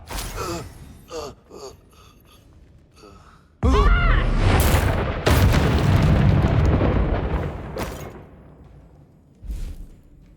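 Bombarda blasting spell going off in the Hogwarts Legacy video game: a sudden loud, broad explosive burst that rolls on for several seconds before decaying, followed later by a shorter second blast, with scattered gasps and vocal effects earlier.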